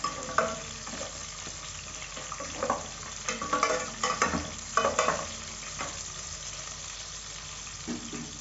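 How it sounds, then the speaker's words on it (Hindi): Boneless chicken frying in oil with whole cumin seeds, a soft steady sizzle with scraping stir strokes and occasional louder bursts, fairly quiet and close with no talking. "चिकन को 2 से 3 मिनट के लिए फ्राई करेंगे।"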